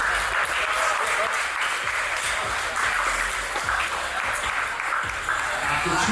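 A crowd at an MMA-style fight event applauds two competitors after a bout, with continuous clapping and cheering mixed with an announcer's voice over the arena noise.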